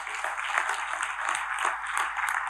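An audience at an IMC network marketing seminar claps together, steady mid-distance applause with a soft, even rhythm lasting a few seconds.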